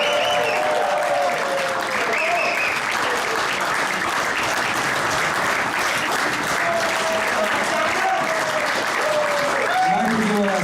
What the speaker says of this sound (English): Standing ovation.